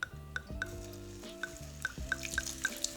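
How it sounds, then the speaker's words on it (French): White wine poured over browned risotto rice in a pan, a steady sizzle with stirring, regular light scrapes and clinks of a utensil against the pan throughout, close and continuous. "Maintenant que notre riz a doré, on met 20 centilitres de vin blanc."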